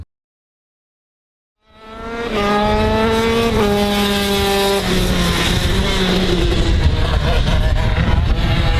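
Shifter kart race cars scream around a track, a loud high-pitched engine wail that climbs through sharp gear changes and stays dense and continuous as the machines run nearby.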